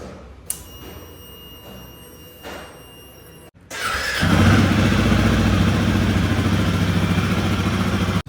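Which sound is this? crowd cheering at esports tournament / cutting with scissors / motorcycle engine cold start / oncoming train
motorcycle engine cold start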